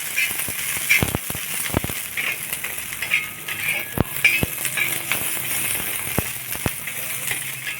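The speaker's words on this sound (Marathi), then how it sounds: "तेल तापलं की मग आपण मिरच्या घालून घेऊया मिरच्या छान आता आपण भाजून घेणार आहोत" Green chillies roast in about three spoons of hot oil over a medium flame, crackling with sharp, scattered pops over a low continuous sizzle.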